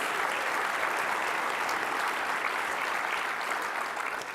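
Conference audience clapping during a climate advocacy session, a sustained, even wash of applause from a large hall that holds steady for several seconds before easing slightly.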